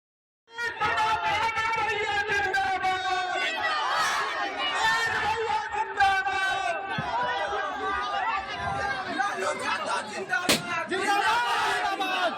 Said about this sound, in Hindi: पहले तेज प्रताप यादव के इस रैली का भीड़ देखिए जिसमें तेज प्रताप यादव का स्वागत हो रहा है